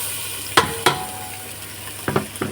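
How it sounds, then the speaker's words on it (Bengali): Hot cooking oil sizzles in a pan while prawns are being cooked, a steady hiss broken by a few sharp scraping or stirring clacks, close up with no talk. "এখন এই তেল দিচ্ছি, তেল ফুটতে আছে"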